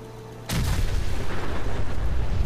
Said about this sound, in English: I'm gonna check out to see what this nuka grenade does.